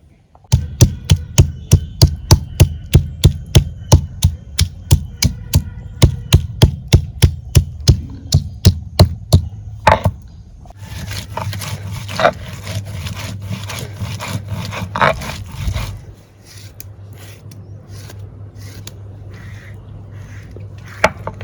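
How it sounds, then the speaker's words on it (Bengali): Onion and garlic ground into paste: about ten seconds of steady, evenly spaced knocks close by, then rough continuous scraping and rubbing that fades to a few scattered taps. "এখন আমি পেঁয়াজ আর রসুন বাইটা নেব"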